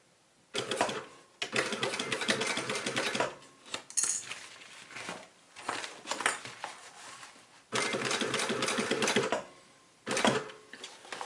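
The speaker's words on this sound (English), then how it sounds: "So you want to start sewing on the seam that's here, on that seam." A sewing machine stitches a seam on a roll-top bikepacking frame bag in several close, steady, rapid bursts separated by short pauses, with no talk.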